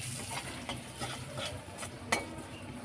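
Spices such as chilli powder, turmeric and cumin-coriander powder being stirred with chopped green chillies in a hot pan for an ol and katla fish curry, a steady close sizzle broken by scraping strokes from the spoon and a sharper clack near the end.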